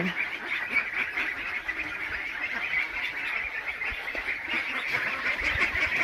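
A crowd of Khaki Campbell ducklings quacks and chatters nonstop, a dense, steady din of many small birds close by with no one talking.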